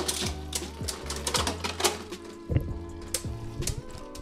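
Two Beyblade tops, Command Dragon and Master Devolos, spin in a stadium with a continuous whirring hum. Sharp metallic clicks and clashes keep recurring close by, and no one talks.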